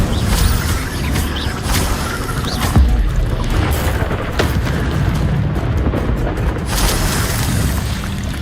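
Incendio fire spells cast in combat in Hogwarts Legacy, heard as loud, continuous booming whooshes of flame with crashing impacts all the way through.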